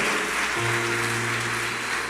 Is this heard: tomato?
no